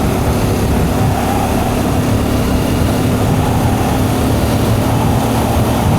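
Royal Enfield Bear motorcycle engine held at 5,000 revs while riding, a loud steady roar with heavy low rumble and wind rush throughout, no pauses.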